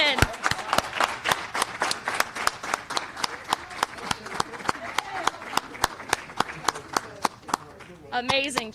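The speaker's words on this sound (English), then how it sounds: "I got to clap on that one." Graduation applause for a new sheriff's deputy: several people clapping in a sparse, steady rhythm at close range, with a voice speaking over it.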